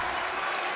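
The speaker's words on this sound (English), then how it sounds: "This crowd is deafening" In the WWE 2K22 wrestling game, an arena crowd roars and applauds in a brief, dense wash of cheering with no clear voice on top.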